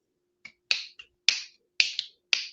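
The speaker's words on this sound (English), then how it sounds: "I was snapping my fingers for all those listeners" Six crisp finger snaps ring out one by one in an uneven rhythm, bright and close, each a sharp click with a short decay against a nearly silent background.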